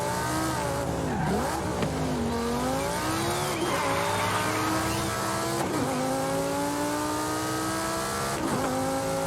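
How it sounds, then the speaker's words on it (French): An Audi R8 is driven in a video game, its engine revving up repeatedly in rising sweeps that drop sharply at each gear change, loud and close with faint tire noise. "la Audi R8 elle est vraiment bien à conduire"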